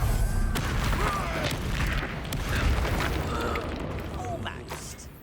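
Bombarda explosion spells in Hogwarts Legacy rumble amid dense game combat, with continuous low booms and crackling blasts layered over mechanical clatter, loud and busy throughout.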